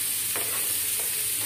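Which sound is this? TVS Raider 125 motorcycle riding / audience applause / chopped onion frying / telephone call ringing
chopped onion frying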